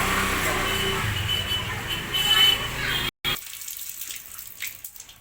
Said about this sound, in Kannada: ಗಡಿಗೆ ತೊಳೆದು